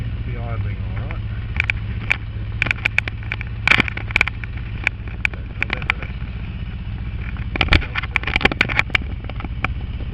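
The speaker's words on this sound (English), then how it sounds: "Seems to be idling alright." Suzuki Across motorcycle idling after a carburettor install, a low steady engine hum under sharp clicks, wind bumps and handling noises, with a person talking nearby.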